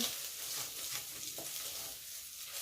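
Corned beef hash fries in a pan with a steady, faint sizzle while a spoon stirs in pepper, giving soft scraping sounds over the constant hiss.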